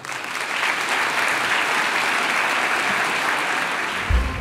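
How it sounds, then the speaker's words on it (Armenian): An audience applauds after a speech at an Armenian community gathering in Los Angeles: dense, sustained clapping from many hands, steady and fairly loud throughout, with no voices standing out. "Միանշանակ ծափահարություններ տեղին են։"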